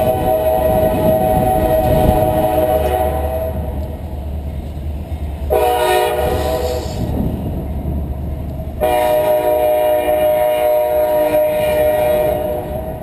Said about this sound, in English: Bear with me with the train.